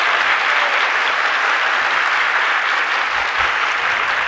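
A seated audience at a Hindu religious discourse claps together, producing dense, steady applause that carries on loudly and evenly throughout with no break.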